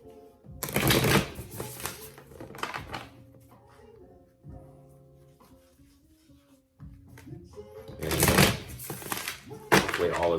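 Oracle animal cards are riffle-shuffled in bursts, two loud crisp shuffles at the start and end with a quieter stretch of tapping and handling between, under soft background music.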